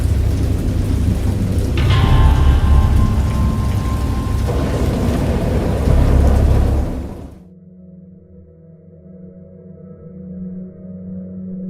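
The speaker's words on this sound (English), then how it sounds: "I heard pearls of thunder and other tones which nature utters only in her wildest moods" Heavy rain pours with a deep rumble of thunder in a video game, loud and constant, then cuts off abruptly to a quiet low hum.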